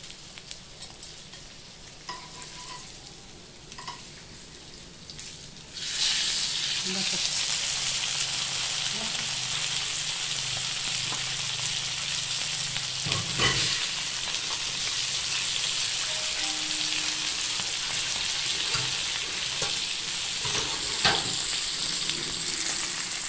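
Mackerel (bangda) coated in semolina hits hot oil on a flat tava pan: a quiet kitchen for several seconds, then a sudden loud, steady crackling sizzle that carries on to the end.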